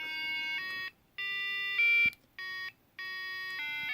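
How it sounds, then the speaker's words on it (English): An embedded-system alarm clock plays its alarm song as bright electronic beeping notes in short repeating phrases with brief pauses between them, clear and close. "So the 12:10, the alarm is going off."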